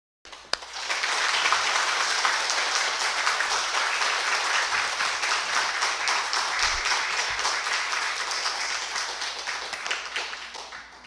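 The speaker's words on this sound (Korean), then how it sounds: "우리 나오실 때에 좀 박수로서 환영의 박수를 좀 드리겠습니다" Welcoming applause from a church congregation in Busan greeting a guest speaker, starting abruptly and holding as a full, steady wash of many hands for about ten seconds before easing slightly, with no talk over it.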